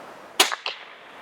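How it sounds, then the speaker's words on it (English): A suppressed Ruger American Ranch Rifle in .300 Blackout fires a single sharp, muffled crack followed by a quick mechanical clatter, brief and fairly close, with quiet outdoor air around it. "I think that particular load might have went supersonic, Bob."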